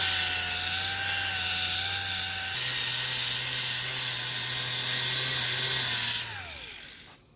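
Scotch-Brite pad by 3M rubbed steadily along the blade of a vintage, water-damaged knife during restoration, a continuous close scrubbing hiss that runs for several seconds under a low drone, then stops abruptly near the end.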